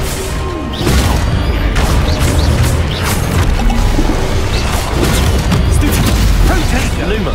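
Depulso spell effects burst in Hogwarts Legacy as loud, crashing whooshes and impacts, several overlapping blasts in a dense, turbulent wash that stays forceful throughout.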